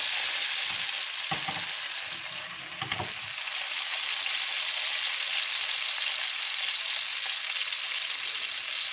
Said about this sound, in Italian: Li faccio soffriggere per bene, cominciano anche a liberare un po' del loro sughetto